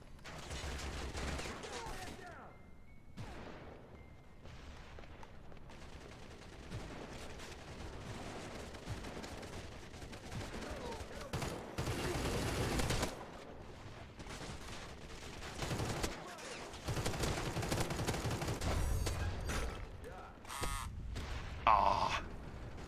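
Dense gunfire from the online shooter CrossfireX: sustained bursts of automatic rifle fire and explosions across a map, loud and continuous with short lulls, the volume swelling and dipping as firefights come and go.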